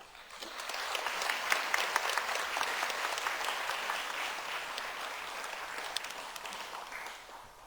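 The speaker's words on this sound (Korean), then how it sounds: "먼저 목요반의 이원석 집사님을 박수로 맞이해 주시기 바랍니다" A church congregation claps at a graduation ceremony of an evangelism training course, giving steady, full-room applause that swells and then fades out over several seconds.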